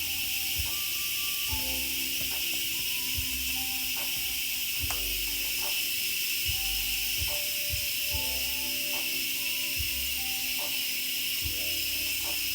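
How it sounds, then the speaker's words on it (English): Steady, bright steam hiss rises from a pot of pork chile verde as it cooks, continuous across the whole stretch with soft tonal background sounds and light clicks underneath. "Very warm steam."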